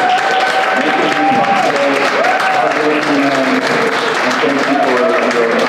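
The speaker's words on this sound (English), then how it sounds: "let's welcome him with a big round of applause, Mr. Richard Rodriguez." An audience at an ADA grant check presentation gives a sustained round of applause, loud and steady throughout, with a voice speaking over it.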